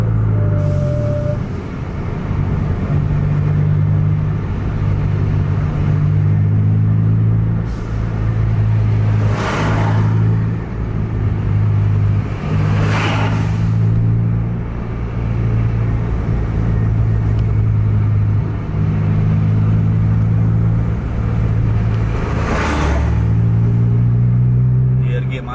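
A Scania K410 bus with a manual transmission rumbles through heavy traffic, its deep engine rising and falling through gear changes with occasional hissing air-brake bursts, while someone talks over it throughout.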